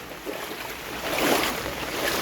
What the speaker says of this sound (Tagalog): Ito na yung baha sa bahay.